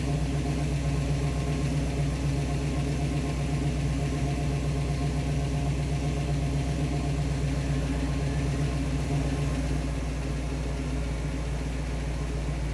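A steady engine idle at 870 rpm, low and continuous, with an even mechanical rumble that holds unchanged throughout with no voices.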